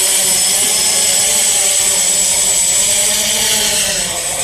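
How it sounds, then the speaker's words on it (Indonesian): Homemade drone flying nearby, a loud, constant high-pitched propeller whine with a steady tone throughout, no voices present. "Nah, inilah rakitan drone sendiri."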